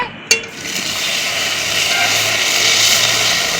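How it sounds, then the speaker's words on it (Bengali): Ginger-cumin paste sizzles and fries in hot oil in a pan for a tilapia curry, a steady loud hiss following a brief sharp clatter as it goes in, with no voices over it. "তারপরে আদা জিরে বাটনাটা দিলাম। এটা কষিয়ে নিয়ে"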